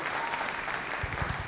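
A synagogue audience at a celebration of a rabbi's ordination anniversary applauds, a short burst of moderately loud, dense clapping from many hands.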